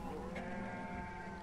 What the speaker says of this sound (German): Es umsorgt niemand meine Schafe.